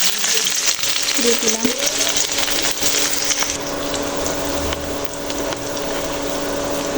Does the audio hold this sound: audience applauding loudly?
no